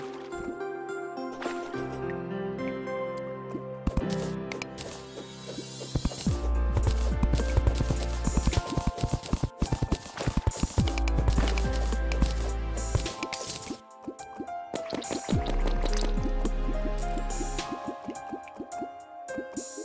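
Water in the game Terraria Calamity drips and splashes steadily with dense, layered watery trickles, alongside game music and effects and little talk.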